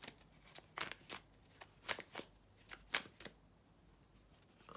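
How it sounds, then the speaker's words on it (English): Tarot cards shuffled and laid out during a love reading: a series of quick, close riffling bursts and soft slaps at an irregular rhythm, fairly quiet, with no talking. "I'm going to get all the cards out first."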